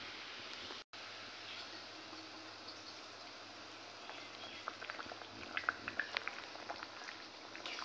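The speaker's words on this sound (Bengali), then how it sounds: "তো এখন ঝোল ফুটে গেছে," Fish curry broth of cumin, ginger, chili and onion paste boiling in a pot, a soft steady bubbling that grows into distinct popping bursts toward the end, fairly quiet and without talk.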